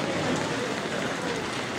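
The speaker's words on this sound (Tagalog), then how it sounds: "Ayan, napakalas ng ulan." Heavy rain pours steadily, a dense, loud hiss of water drumming on surfaces throughout, with no break.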